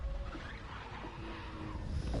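A car swerves and skids in the racing video game The Crew 2, with faint tire squeal and engine noise blending into a low, rough roar throughout.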